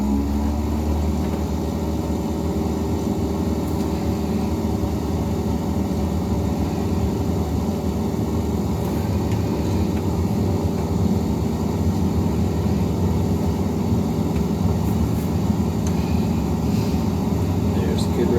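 Steady droning Cessna propeller engine at takeoff power in a home cockpit flight simulator, a continuous, even hum with no pauses that holds constant throughout.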